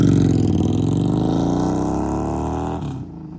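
A broken Harley motorcycle pulls away on an hour-long ride home, its loud engine rumble rising in pitch then fading quickly into silence.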